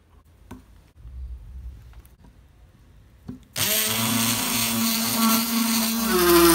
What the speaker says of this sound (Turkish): şimdi şu kısımlara mil takmak için birer delik deleceğim arkadaşlar